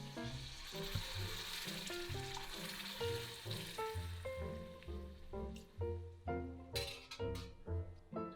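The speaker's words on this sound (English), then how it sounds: "Now you want to add a little bit of stock to your turnips." Stock hits caramelizing turnips in a hot pan, bringing a steady sizzling hiss with faint clinks and bubbling, and gentle music plays underneath.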